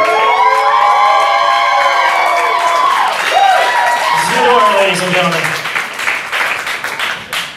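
Audience at a burlesque revue in a Richmond gallery venue claps, cheers and whistles loudly and steadily, with a host's amplified voice announcing over the crowd noise.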